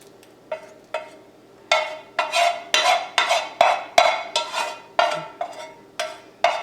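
A spoon scrapes and stirs through a pot of creamy potato bacon soup with garlic, giving a steady run of close, distinct scraping strokes, about a dozen in a loose rhythm, each with a bright rasping edge.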